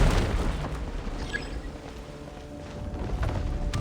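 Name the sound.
breakable wall being smashed in video game Genshin Impact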